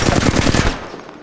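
Rapid automatic gunfire in Apex Legends, a loud, close burst of about ten shots in quick rhythm lasting under a second, then a fading tail.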